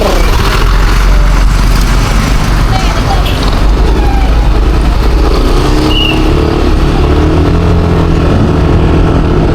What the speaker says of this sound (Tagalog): Diretso lang ang motor.